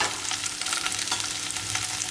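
Spices sizzling in hot tempering oil while being stirred, a steady loud crackling fry with scraping from the stirring, no voices over it.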